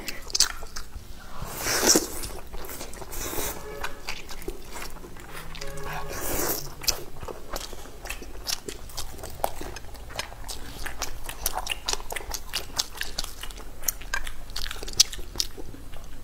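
Chewing of stir-fried noodles in a mukbang, with soft wet bites and occasional crunchy clicks repeating close to the mic over a quiet background.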